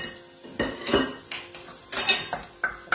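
Ravioli stuffed with artichoke and stracchino are tossed with pancetta in a pan. Metal utensils scrape and clink against the pan in uneven bursts, close and moderately loud, over a faint background sizzle.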